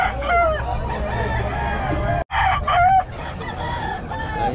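Roosters crow repeatedly at a busy Bocaue pet market stall selling chickens, loud and close, with overlapping calls and clucks over steady crowd murmur and a brief gap midway.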